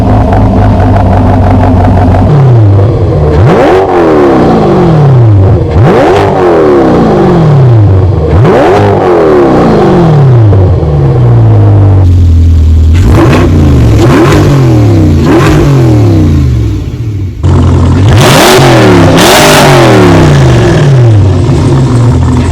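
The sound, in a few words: C8 Corvette Z51 revving through AWE exhaust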